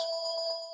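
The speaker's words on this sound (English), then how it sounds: "there's my phone, and I'm going to forget it." A phone ringtone sounds close and clear, a sustained electronic tone pulsing briefly before fading at the end.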